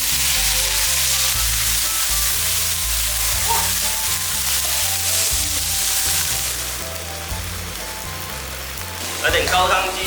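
Dried shrimp fry in a hot wok, giving a loud, continuous sizzle that stays dense throughout, with a few stirring scrapes near the end. Background music plays underneath.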